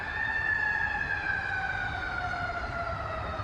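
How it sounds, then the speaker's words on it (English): A steady wailing siren sounds from a distance over a low rumble of traffic, holding for several seconds without fading. "there goes the sirens right there"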